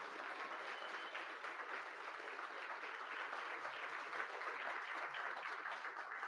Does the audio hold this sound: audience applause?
yes